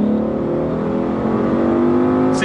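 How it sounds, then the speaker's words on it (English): A 2017 Ford Mustang GT engine revs high and strains steadily as the car pulls away hard from a standstill with wheel spin, a continuous loud roar with rising pitch and no talking. "Wheel spin."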